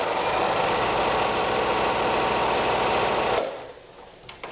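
A Privileg Super Nutzstich 314 sewing machine runs in a steady, fast stitching whir for about three seconds, then stops, leaving faint handling clicks.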